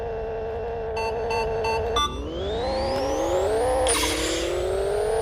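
A turbocharged K20 Civic Si engine in the Pixel Car Racer racing game revs hard, with beeps before a shift, then climbs steadily through the gears toward redline, loud and continuous with no talk.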